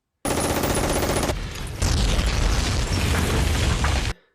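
Loud, dense battle din: rapid gunfire crackling over heavy booming explosions, continuous and close, with no voices.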